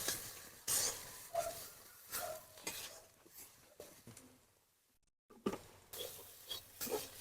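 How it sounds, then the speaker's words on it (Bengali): Bottle gourd leaves stirred and fried in oil in a pan, with a soft steady sizzle under repeated scraping and clinking of a spoon against the metal, then a brief pause before the stirring resumes. "এটা তেলের সঙ্গে ভালো করে নেড়ে ভালো করে ভেজে নেবো"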